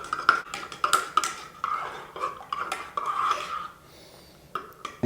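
A spoon clinks and scrapes repeatedly against a bowl while yeast is stirred into lukewarm milk for Brussels waffle batter, a quick irregular metallic rattle that fades out near the end.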